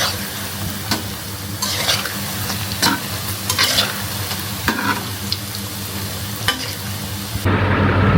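Palm fruit fritters (taler bora) fry in hot oil with a constant crackling sizzle, broken by sharp scraping clicks of a utensil stirring them at close range; the frying turns heavier and more muffled near the end.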